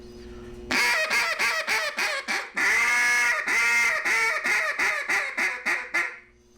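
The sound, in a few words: duck call imitating several ducks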